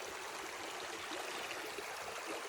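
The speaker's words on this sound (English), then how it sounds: "This is like the 4th or 5th creek crossing that I've done today." Creek water flowing steadily over rocks at a hiking crossing in Arkansas, a continuous close broadband rush and babble with no voices.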